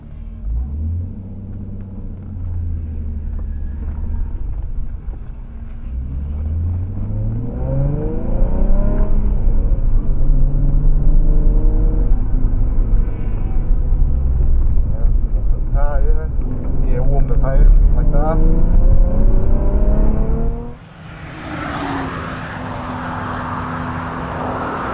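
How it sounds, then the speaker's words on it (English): A car out on a race track during a track day, its engine droning and rising in pitch through repeated accelerations, loud and close from inside, with someone talking over it before a sudden shift to louder, rougher noise. "first time out driving a track"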